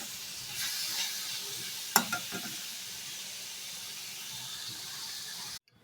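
Shredded cabbage fries in hot oil in a pan, giving a steady close sizzle with a few sharp scraping stirs near the middle before the sound cuts off abruptly.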